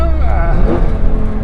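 A 2008 Lamborghini Gallardo engine rises in a quick throttle blip during a gearshift, a loud, close, throaty drone with climbing pitch. A voice talks over the engine.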